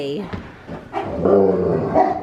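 Several dogs bark and yelp in a busy kennel play area, sharp overlapping barks close by with a person's brief exclamation amid the noise.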